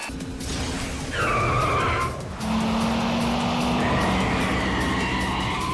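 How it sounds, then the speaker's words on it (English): A car drifts in the Yakuza 5 video game, its tires squealing in long skids over a loud, steady engine roar, with no one talking. "Fiery drift, there we go."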